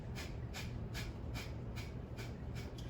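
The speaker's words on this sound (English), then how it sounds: "you're pumping the belly and exhaling heavily out through the nose." Kapalabhati breath of fire: about seven forceful nasal exhales in a quick, even rhythm, close and faint over a low steady hum.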